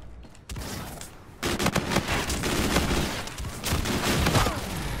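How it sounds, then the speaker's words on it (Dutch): Small pistol firing in Call of Duty: Infinite Warfare, a rapid volley of loud gunshots after a brief quiet start, continuing in dense repeated bursts with overlapping game noise. "Dit is het kleine pistooltje."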